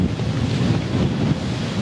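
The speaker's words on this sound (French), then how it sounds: "Il y a beaucoup de vent, je ne sais même pas si vous m'entendez" Strong coastal wind buffets the microphone at the African Renaissance Monument in Dakar, a continuous loud rumbling roar with no speech.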